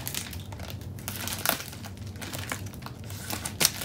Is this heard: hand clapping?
no